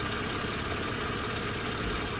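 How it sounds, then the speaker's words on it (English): A 2007 Mercedes E350 (W211) engine runs at idle during a transmission service, giving a steady, even hum with no talk. "You got to leave the engine running"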